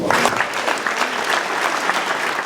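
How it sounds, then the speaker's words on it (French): A crowd at an outdoor flower parade applauds steadily and fairly loudly, a dense continuous patter of many hands with faint voices mixed in. "Donc pour ça, applaudissements."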